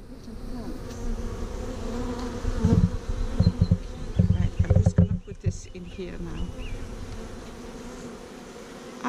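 Honey bees buzzing around an open hive during a delivery to a country park in Midlothian, UK, a dense close drone of many insects with louder swells and passes mid-clip, faint human voices in the background.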